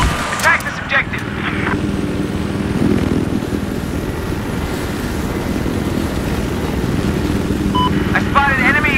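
An AH-6J light helicopter flies in Battlefield 4 on a large multiplayer map, its steady rotor and engine drone loud and continuous throughout, with brief chirpy game effects at the start and end.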